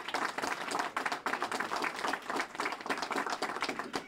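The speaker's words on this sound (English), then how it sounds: "I want to give you a round of applause for that support." A crowd claps at a pre-election political rally in New Jersey, dense, steady applause that holds at full strength for a few seconds, with no voice heard over it.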